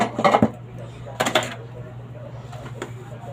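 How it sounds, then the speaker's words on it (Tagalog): Plates and dishes being washed by hand, with a few sharp clatters and clinks in short bursts over a steady background hum, close to the listener. "basta hugas lang kay hugas ng mga pinggan"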